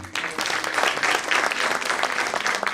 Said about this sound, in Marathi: माननीय श्री सीताराम मणेरकर यांच्यासाठी जोरदार टाळ्या